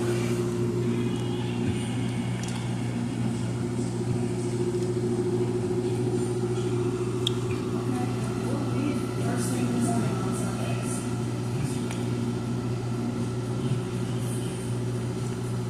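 An Amana front-load washer runs its spin cycle at medium-high speed, giving a steady, continuous mechanical drone with a low hum that holds level throughout.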